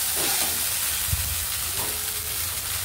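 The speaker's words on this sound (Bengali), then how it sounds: "ভালো করে তেলের সাথে নেড়ে চেড়ে নিচ্ছি।" Ginger paste, a bay leaf and torn dried chilli are stirred in frying oil for a bitter dal. A loud, steady hiss of sizzling fills the clip, with a few soft spatula scrapes and no voices.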